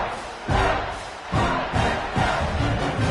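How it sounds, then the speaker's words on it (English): Home stadium crowd cheering in a college football video game, Hawaii vs Arizona, a loud roaring crowd that swells in repeated surges with thumping bursts, continuous and close. "Give your home crowd something to get excited about."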